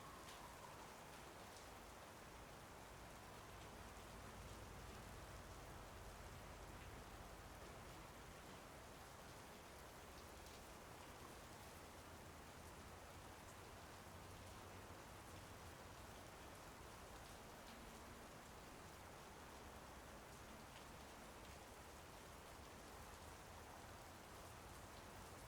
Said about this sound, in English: I have to stand in the rain for 30 minutes.